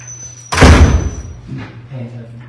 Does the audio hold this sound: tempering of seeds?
no